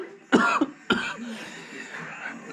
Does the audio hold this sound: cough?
yes